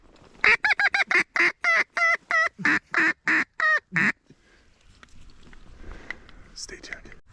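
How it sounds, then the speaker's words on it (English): A group of geese honks near a Wisconsin duck-hunting spot, about a dozen loud, evenly spaced nasal calls in quick succession, then fading into quiet outdoor ambience. "We heard a group of geese over there, a group of geese over there."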